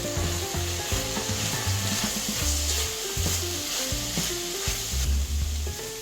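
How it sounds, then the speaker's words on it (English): Spoon scrapes and stirs through meatballs in a bubbling tomato and pomegranate molasses sauce sweetened with maple syrup, rhythmic strokes over a steady close sizzle. "Then we stir."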